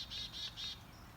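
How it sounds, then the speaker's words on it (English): Small birds at a backyard feeder give three quick bursts of high chirping close by, with a faint call trailing after, over quiet outdoor background. "these birds are gotten to be awful brave with the bird feeder"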